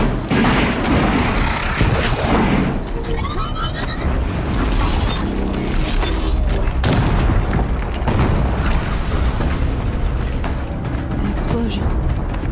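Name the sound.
explosion in the video game Horizon Zero Dawn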